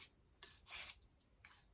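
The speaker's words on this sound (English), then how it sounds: "you do a knife just like this to sharpen it" A knife scrapes across a sharpening rock in short, raspy strokes, about four quiet licks spaced irregularly, close and alone.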